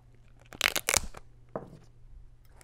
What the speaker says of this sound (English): I'm going to tape it to the end of the journal.